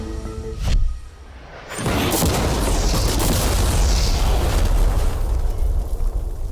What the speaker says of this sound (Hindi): चलो उड़ाते हैं एक नॉर्मल कार को और देखते हैं कि पैसेंजर्स बच पाते हैं या नहीं